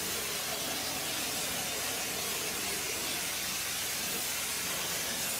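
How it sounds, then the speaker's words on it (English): Shotcrete sprayed from a nozzle on a large construction project gives a steady, loud, hissing rush that holds constant throughout without pauses. "Throughout the process, the nozzleman's skill in managing the flow and direction of the shotcrete is evident"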